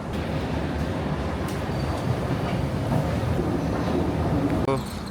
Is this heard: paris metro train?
yes